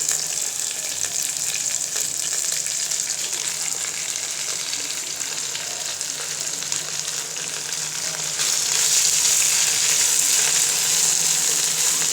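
Jute leaves dropped into oil with browned fried onion and garlic give a continuous close sizzle that swells louder partway through, with soft stirring underneath and no voices.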